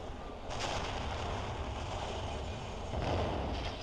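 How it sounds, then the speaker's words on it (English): Simulated explosions from Fire Studio fire-training simulation software: two loud, rumbling blasts, one early and one near the end, each swelling over a steady low background roar. "There's explosions going off."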